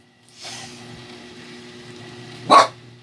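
A dog barks twice nearby, a softer bark followed two seconds later by a louder, sharper one, over a low steady hum.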